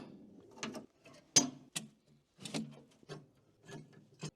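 Mower deck being unhitched from an Iseki TXGS24 compact tractor: a series of close, sharp metallic clunks, scrapes and ratcheting knocks in irregular bursts, with brief pauses between them.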